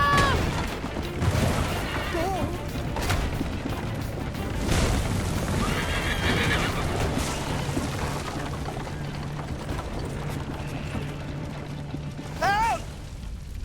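A horse whinnies amid the busy, noisy action of the Assassin's Creed Liberation video game, with crashes, rumbling and a shrill neigh rising near the end over a constant game soundscape.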